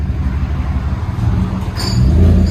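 A Chevy Tahoe 5.3L V8 with a Dynomax Race Bullet exhaust drones at a low, throaty idle that builds slightly louder toward the end, steady and close.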